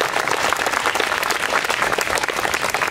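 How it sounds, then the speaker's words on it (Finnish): A seminar audience applauds at the close of a panel discussion at a Finnish public affairs event, the clapping dense, steady and loud throughout, with no speech over it. "Annetaan aplodit."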